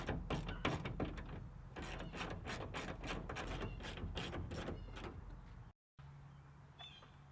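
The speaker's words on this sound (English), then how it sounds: "That's an 8mm bolt. Just use a deep well socket and get that out of here." A ratchet with a deep well socket removes an 8mm tail light bolt on a 2017-2020 Ford F250 XLT Super Duty, giving a fast, close run of repeated clicks before a brief silence.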